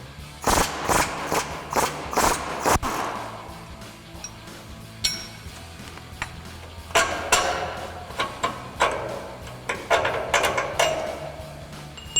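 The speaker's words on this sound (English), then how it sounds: "we can grab a 27mm wrench on our nut side and a 21mm socket on our bolt side and remove our 2 bolts" Metal wrench and socket clanks and ratcheting taps while strut bolts are loosened on a 2004-2023 Ford F-150 front suspension, irregular bursts of clinking close by with short quiet gaps, no talking.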